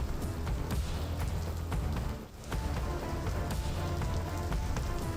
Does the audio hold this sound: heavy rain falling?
yes